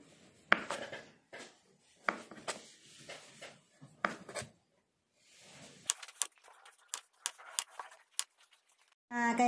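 Knife slicing steamed pandan dough into thin strips for kuping gajah, giving a series of short, close cutting taps and scrapes spaced irregularly, with a few brief sharper clicks near the end.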